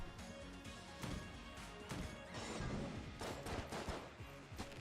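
In Enter the Gungeon, a blank item's blast knocks enemies back amid a chaotic barrage of rapid gunfire, sharp impacts and crashes, dense and continuous with no pauses.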